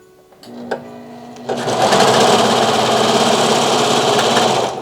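Vevor industrial four-thread serger stitching stretch fabric: a couple of faint clicks, then the machine revs up to a steady, loud, fast whirring hum that runs continuously to the end.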